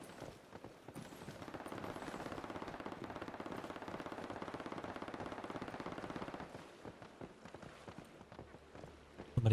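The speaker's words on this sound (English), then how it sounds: "Somebody just randomly firing off their gun." Steady, rapid automatic gunfire in the game Once Human, sounding somewhat distant and continuous for several seconds before cutting off, with no speech over it.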